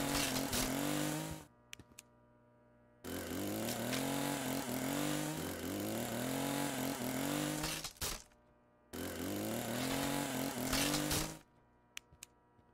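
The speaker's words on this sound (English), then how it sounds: "Well, I have a chainsaw now." A chainsaw in a horror video game revs loudly in three long bursts with gaps of near silence between them, the engine pitch rising and falling as it runs.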